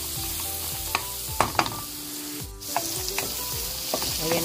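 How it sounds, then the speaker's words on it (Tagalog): Bamboo shoots and shrimp are sautéed in a pan, giving steady close sizzling with scattered clinks and scrapes of a utensil stirring, and one brief lull midway. "Ayan na guys, nagisa na natin ng mabuti."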